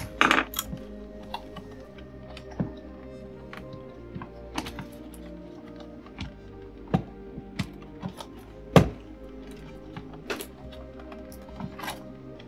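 Small metal screws from a Neato Botvac robot vacuum clink one by one onto a pile, sparse light metallic taps and rattles at irregular intervals over quiet room tone.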